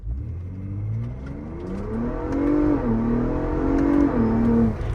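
A Ford Bronco Raptor engine revs hard and climbs through rapid gear shifts, its pitch rising and dropping at each quick change, close and fairly loud with no talking.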